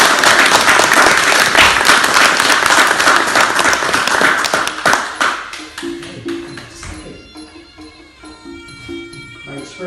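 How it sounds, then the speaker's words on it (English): Loud applause from an audience at a Thai martial arts Kru ceremony and club handover, dense clapping for about five seconds before thinning into scattered claps while a tonal chime-like sound rings underneath. "a round of applause, please"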